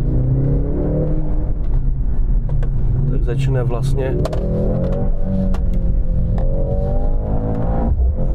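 Mercedes-AMG C63 hybrid with a four-cylinder engine revving, a loud low engine drone rising and falling in pitch beneath someone talking near the microphone.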